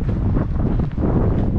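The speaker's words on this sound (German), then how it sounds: "Es windet viel zu fest." Strong wind buffeting a camera microphone outdoors near a bike park, a continuous loud low rumble with gusty fluctuations and no speech.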